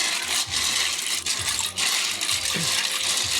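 Snails in their shells tumble into a hot pan of sautéed aromatics, giving a steady near sizzle with a few scattered clicks and rattles of shells.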